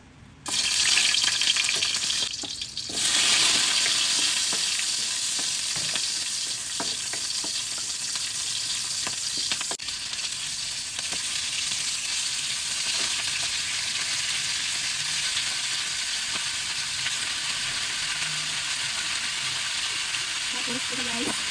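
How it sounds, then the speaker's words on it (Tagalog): Pork pieces sautéing in a hot pan before boiling for nilagang baboy, a loud continuous sizzle and frying crackle up close, with occasional stirring scrapes and a faint voice at moments. "Ako ginigisa ko muna kasi."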